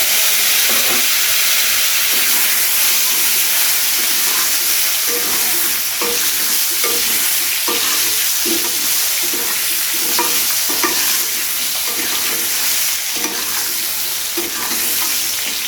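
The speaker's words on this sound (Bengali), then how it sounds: "এরপরে এর মধ্যে কুমড়োটাকে দিয়ে ভেজে নিতে হবে।" Pumpkin pieces frying in a pan with hot oil and five-spice seasoning, a loud continuous sizzle and hiss with intermittent scraping and stirring knocks of a spatula throughout.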